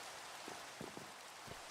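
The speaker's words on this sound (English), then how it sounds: "Rain." Faint, steady rain patters down in a blocky survival video game, a soft hiss with a few scattered drop taps and no voices.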